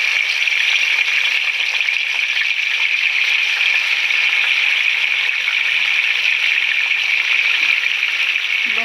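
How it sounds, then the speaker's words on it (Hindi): Beef tikka boti sticks frying in very hot ghee in a kadhai, giving a steady, loud, close sizzle that holds unchanged throughout without a break. "अब इसको फ्राई करेंगे।"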